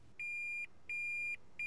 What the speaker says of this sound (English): The R will begin to flash, a buzzer will sound